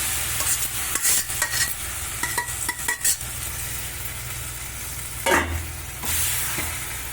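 Chana dal being stirred and fried in hot oil in a pot, with a run of scraping, clattering stirs up front, quiet sizzling in between, and a louder burst and clank later on; no voices.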